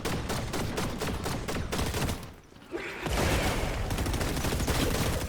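Rapid gunfire from a competitive online shooter fills the scene, dense bursts of automatic shots and explosions that pause briefly and then resume loudly.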